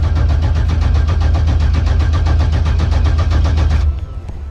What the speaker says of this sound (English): so we can just crank it over.